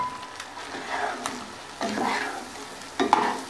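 Brain (bheja/maghaz) frying in desi ghee in a pan, with soft sizzling and three bursts of stirring scrapes, quiet and close, no voices.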